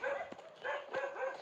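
A dog near a house in rural Kerala, close to the Maranatty Waterfalls, gives a few short, fairly loud barks and yelps in quick succession, heard alone against a quiet background.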